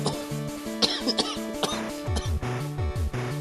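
Several sharp coughs and throat-clearing bursts sound close by in a podcast setting, followed by a deeper, strained vocal cough sequence, with no talk between them.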